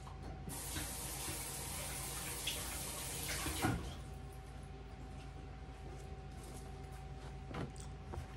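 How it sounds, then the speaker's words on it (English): Hands washed under a running kitchen tap while baking an almond poppyseed lemon loaf: a close, steady rush of water for about three seconds that cuts off, followed by a faint clunk and quiet room tone. "Let me wash my hands off."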